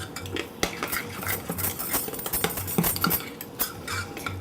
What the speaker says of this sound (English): And you just want to stir it till it's smooth.